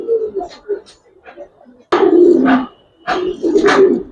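Pigeons of coloured, silver and racer breeds coo in short throaty bursts, the calls close and fairly loud with quieter murmurs between them.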